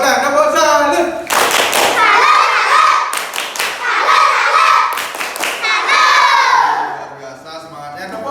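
A group of children in a classroom claps together in the 'tepuk salut' rhythm, loud and close, in bursts of claps mixed with their shouted chanting and a teacher's voice.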